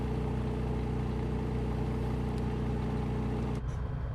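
Light aircraft engine on a bush flight over the Sahara in Microsoft Flight Simulator drones at a steady, even level throughout, cutting off abruptly near the end.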